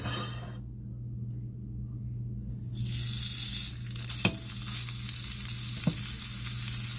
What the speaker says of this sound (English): I have the oil in the pan and I have the pan on medium. So we're just gonna put the sausage in here.